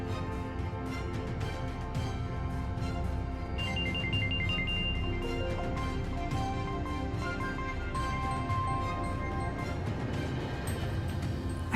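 A mobile phone rings with a melodic electronic ringtone, a repeating tune of bright tones that plays steadily and clearly for several seconds with no one speaking over it.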